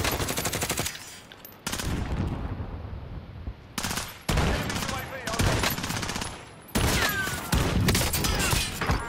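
Automatic gunfire in Call of Duty: Warzone rattles out in loud, rapid bursts separated by brief pauses, some with sharp cracking impacts, and talk is faintly mixed beneath.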